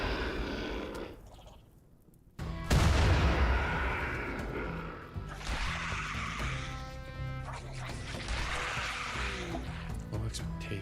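Explosions in the video game RimWorld, loud booming blasts bursting in after a brief quiet, with rumbling, crackling debris and layered game effects continuing through the rest of the stretch.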